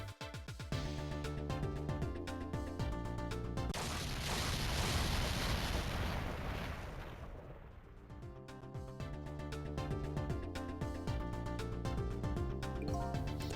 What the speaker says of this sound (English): I think I heard an explosion somewhere